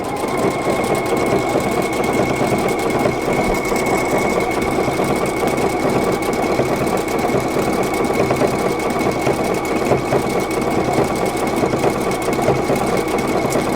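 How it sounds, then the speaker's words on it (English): A Pfaff Creative Icon sewing machine stitching a seam, a loud, steady mechanical whir with a fast rhythmic needle beat, running continuously and close by with no voices. "And as I sew, I'm going to stretch this piece out to fit the end."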